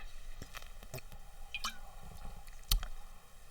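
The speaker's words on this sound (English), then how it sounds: "let me drink some water one sec." A person takes a drink of water up close, with quiet wet squishy swallowing and small mouth clicks over a faint steady background.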